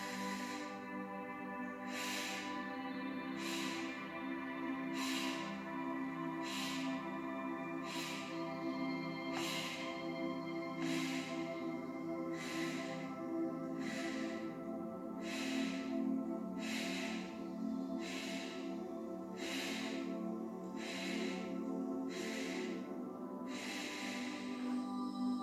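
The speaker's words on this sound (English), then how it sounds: "as we breathe" During a slow core exercise a person takes deep, controlled breaths, about fifteen sharp exhales evenly spaced across the stretch, close and breathy over a soft steady instrumental backdrop.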